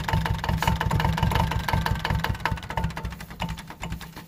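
Ferguson MF35 diesel tractor engine running in cold weather, a loud, rough, rapid knocking putter close by that stumbles and falters toward the end, alone without talk.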